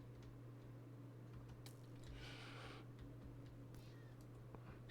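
Cats meow in the video game Minecraft, a few faint mewing calls over a quiet steady hum, with no voices.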